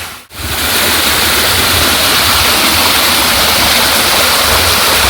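Loud, steady rush of water tumbling over small falls at Poomala waterfalls, a constant broadband roar with no voices.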